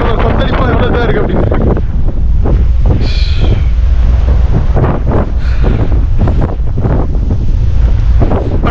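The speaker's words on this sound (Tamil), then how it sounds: "கடல் எவ்வளோ கொந்தளிப்பா எவ்வளோ தான் இருக்கு" Strong wind buffeting the microphone and rough seas crashing around a ship crossing the Drake Passage toward Antarctica, loud gusty roaring with surging waves throughout.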